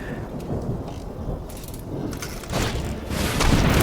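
A lightning-strike thunder effect from a Magic card video game sounds as a dense rumbling crash with rain-like hiss, swelling louder toward the end, with no voices.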